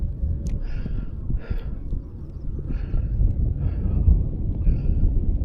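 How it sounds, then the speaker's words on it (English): Wind gusts buffet the microphone beside a pond while fishing, a low, rumbling roar that swells and eases steadily throughout, with no talking. "Got some wind gusts hitting us"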